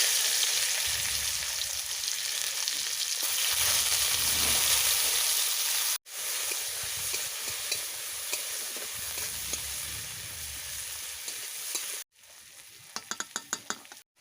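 Chopped onions frying in a pan give a steady close sizzle and hiss, broken by two brief cuts, with a few sharp clicks near the end.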